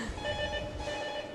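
Telephone ringing during a squad bowling event at the Malta Open 2017, a steady electronic ring with sustained tones, fairly quiet beneath the hall's ambient noise.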